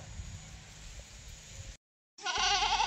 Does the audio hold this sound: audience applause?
no